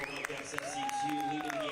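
Warm applause from a soccer crowd greets a substituted player leaving the pitch, a steady broad wash of clapping running throughout beneath a commentator's voice.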